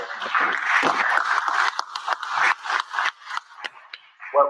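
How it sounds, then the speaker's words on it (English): Crowd applause at a full council meeting, dense clapping at first that thins into scattered, uneven claps toward the end. "Well-deserved applause, thank you."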